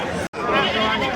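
At a crowded goat market in Ranipet, a fifteen-day-old lamb gives a loud, close, wavering bleat, briefly broken and then continuing, over a busy background.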